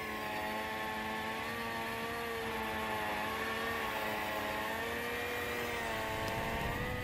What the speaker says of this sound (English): RC planes loaded with C4.